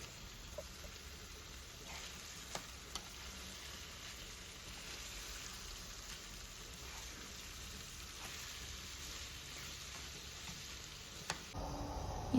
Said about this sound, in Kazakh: 10 минут қана қуырсаңыздар жеткілікті.